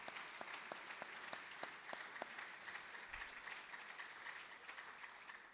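At an awards ceremony, an audience claps in appreciation, a soft, distant round of steady applause with a few sharper claps standing out early on, continuing evenly throughout.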